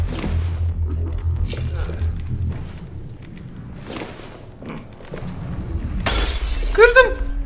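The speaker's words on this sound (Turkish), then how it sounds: "Camı da kırdım." A glass window shatters in Hello Neighbor 2, a sudden loud crash of breaking glass with tinkling shards near the end, following quieter in-game footsteps and movement.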